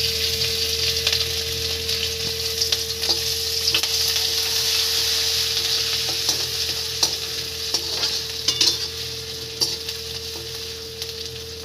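Chopped ginger and green chili with bay leaf frying in hot oil, a steady close sizzle with repeated spatula scrapes and taps against the pan, no voices.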